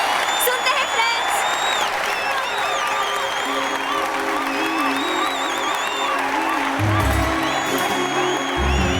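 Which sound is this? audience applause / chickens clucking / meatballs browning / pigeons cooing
audience applause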